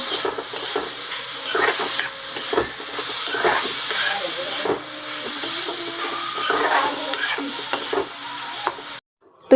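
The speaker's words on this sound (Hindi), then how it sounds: "यहाँ पर गोभी को अच्छे से पका लेते हैं" Cauliflower stuffing for parathas cooks in a pan with a continuous close hiss and sizzle, marked by frequent stirring scrapes, before the sound cuts off sharply near the end.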